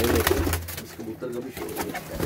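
Pigeons of a paired breed kept on a rooftop loft coo in low, throaty repeated phrases close by, with someone talking over and between the calls.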